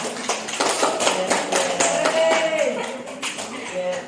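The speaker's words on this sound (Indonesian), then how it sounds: "Oke, kasih aplaus dulu untuk Vira." Applause in a school career-guidance class as students clap for a classmate, a steady patter of many hands under faint voices, moderately loud and fairly close.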